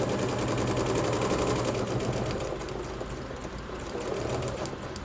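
Sewing machine stitching slowly across a pin through synthetic fabric while piecing a doctoral hood quilt, a steady dense mechanical whir running continuously and close, easing slightly in the second half.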